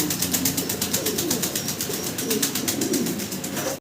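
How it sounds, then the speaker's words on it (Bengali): A pair of fancy pigeons coos close by in a steady, rapidly repeating pulse that continues without a break, with no talking over it. "অসাধারণ সুন্দর একজোড়া আমরা স্টেসার কবুতর দেখতে পারতেছি"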